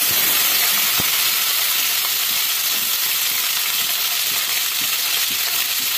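Steady crackling sizzle of oil frying, with scattered pops and spits from cumin seeds, continuous and close throughout.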